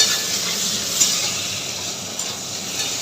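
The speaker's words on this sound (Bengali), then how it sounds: "এই যে তেলের ওপর দিয়ে দিলাম পেঁয়াজ" Onions sizzle in hot oil in a pan while fish curry is being cooked, a steady close frying hiss running without a break under no speech.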